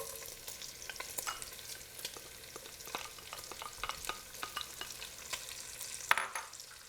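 Onions sizzle and crackle in rendered fat in a pan for carbonara, a steady close frying hiss broken by frequent sharp pops and the scrape of stirring, with no voices.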